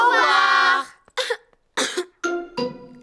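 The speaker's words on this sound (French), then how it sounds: "la toux de Pedro est contagieuse" Cartoon children cough in a series of short, sharp bursts, one longer voiced cough followed by three or four quick hacking coughs, close and clear.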